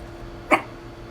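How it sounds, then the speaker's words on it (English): A dog lets out a single short, sharp bark, close and sudden against a quiet indoor room. "Keats, no bark, please."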